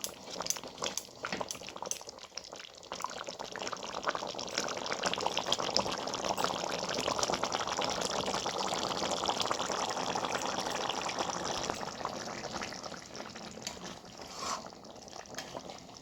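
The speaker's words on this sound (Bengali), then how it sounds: "পোস্ততে একটু কাঁচা তেল দিতে হয় নামানোর আগে" Raw oil poured into a pan of ridge gourd and potato posto: a steady, soft liquid pour trickling for most of the stretch, faint and close, with no talk.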